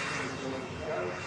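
Airliner engines at Manchester Airport building to a steady broadband roar during the takeoff roll, heard from a distance as a continuous rushing drone.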